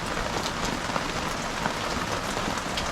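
Steady warm rain falls in Florida, a dense even patter of drops on surfaces with no break, close and moderately loud throughout, no voices.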